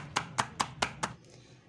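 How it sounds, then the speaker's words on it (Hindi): A cake tin filled with batter is tapped against a surface five times in an even, quick rhythm, each knock close and crisp, then stops. "अब इसमें बबल्स जो आ रहे हैं उन्हें हमें ख़त्म करना है, तो इस तरह टैप टैप करके उनको निकाल दीजिए।"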